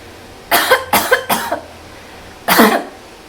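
Three quick coughs in a row, then a pause and one more cough, close and fairly loud.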